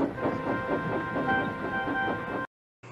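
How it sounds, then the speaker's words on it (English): A goods train hauled by a steam engine rolls past a siding, giving a steady rumbling clatter with faint tonal hums that cuts off abruptly near the end. "Henry arrived with a goods train. The signalman switched the points, and Percy waited on the siding until Henry had steamed by."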